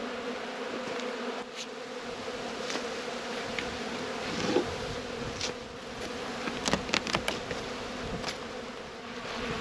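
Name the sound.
honey bees in an opened hive during inspection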